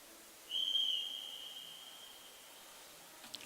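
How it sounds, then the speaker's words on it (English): A single sharp, high whistle blast signals the start of a cycling sprint race in Brisbane, ringing for about a second and fading out over a quiet, distant outdoor background, with no voices. "So say the riders have received the whistle."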